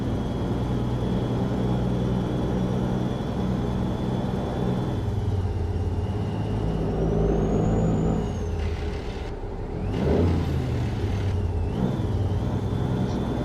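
Heavy truck engine in American Truck Simulator, a Western Star, droning loudly and steadily, then revving and shifting pitch during downshifts, with a brief hiss near the end and no talking.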